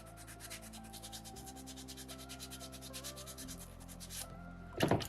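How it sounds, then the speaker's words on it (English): Sandpaper rubbing over a small soapstone shark carving, a faint rapid scratching in short repeated strokes beneath a low hum, ending with a louder knock. "You can always use more of the back end of that sandpaper to try and avoid it completely."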